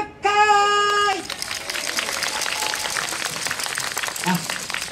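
Audience at an outdoor yosakoi dance performance breaks into applause after a brief musical tone, scattered clapping continuing fairly evenly for several seconds at moderate volume.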